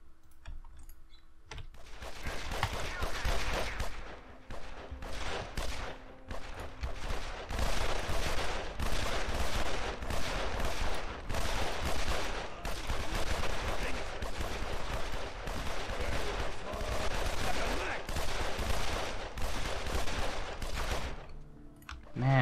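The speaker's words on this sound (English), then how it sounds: "listen to the gunfire" Rapid, continuous bursts of gunfire crackle throughout in the video game Evil Genius, dense and sustained like automatic weapons in a battle, with no voices.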